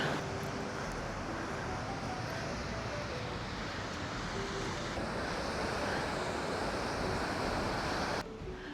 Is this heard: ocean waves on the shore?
yes